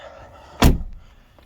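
A single heavy, solid slam of a Jeep 392 door shutting up close, one sharp loud thud that stands alone against quiet background.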